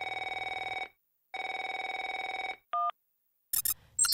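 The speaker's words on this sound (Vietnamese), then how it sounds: "Bà cần gọi điện thoại cho cửa hàng chữ người máy đây." Telephone rings in two long electronic trilling bursts separated by a short pause, clear and close, then a brief beep and some quick squeaky sounds follow.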